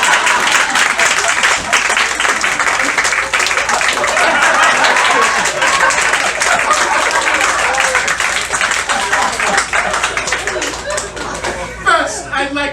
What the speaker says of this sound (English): Round of applause from me.